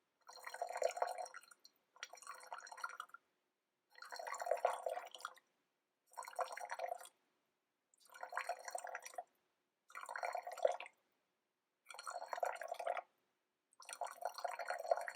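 A Brewista electric gooseneck kettle pours water in a series of short, evenly spaced bursts of about a second each, separated by silence, at thin, medium and full stream settings. The pours are close, clear and unaccompanied by speech.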